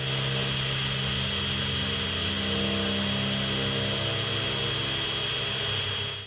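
A drill bores through the underside of a van and an aluminum roof-rack plate, giving a loud, continuous whirring roar throughout, with the motor tone shifting slightly partway before cutting off.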